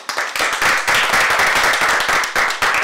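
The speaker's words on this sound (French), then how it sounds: "On peut peut-être les applaudir." Dense applause from a studio audience at a dessert-making competition semi-final, a steady wash of many hands clapping close and loud for about three seconds with no talk over it.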